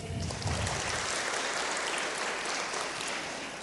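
A lecture audience gives a sustained round of applause during the introduction of judges at a talk on updating the civil code, a dense, even wash of clapping that carries through the whole stretch at moderate loudness.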